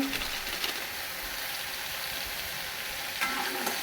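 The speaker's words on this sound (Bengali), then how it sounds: "আমি মশলাটা আমি ভালো করে কষিয়ে নেবো।" Ground cumin, coriander and Kashmiri chili powder fry in oil for Kashmiri aloo kosha, giving a dense, even sizzling hiss with occasional light stirring scrapes, close and steady.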